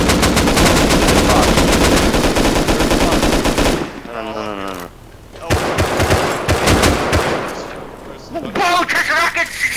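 Auto turret gunfire in the video game Rust, loud rapid machine-gun bursts that rattle continuously, break off briefly, then resume, with several players talking over the shooting.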